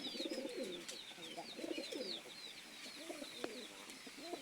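Doves cooing repeatedly at a farm in Manikganj, with soft rounded coos overlapping higher chirps from other birds, fairly close and steady throughout.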